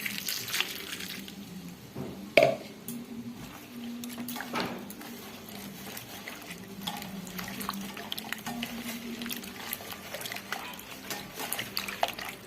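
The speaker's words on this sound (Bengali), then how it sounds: "আদা, কাঁচা লঙ্কা, রসুন, পেঁয়াজ, আলু সব কেটে নিয়েছি। এগুলা এখন ধুতে হবে।" Chopped ginger, green chili, garlic, onion and potato rinsed under a running tap, a low steady water flow with splashes and a few sharp knocks of the bowl, no speech.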